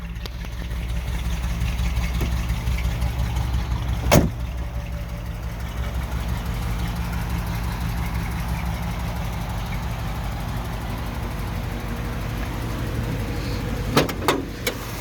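A 1958 Chevrolet Impala hardtop's 283 V8 with automatic transmission idles steadily with a low, even rumble, a couple of sharp clicks breaking in near the start and end.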